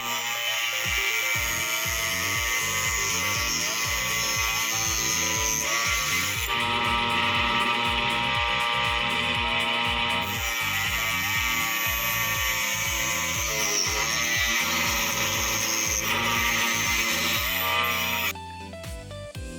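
Power tool slicing lengthwise through a PVC pipe, a loud continuous high-pitched motor whine with steady rhythmic cutting pulses that shifts pitch partway through and cuts off near the end, with no speech.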